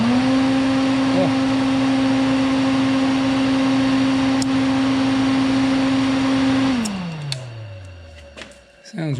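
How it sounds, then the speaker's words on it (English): A repaired welder runs with a loud, steady electrical hum and whirring fan, then is switched off and winds down, leaving a few clicks and faint rattles. "now that I got my welder back together and working"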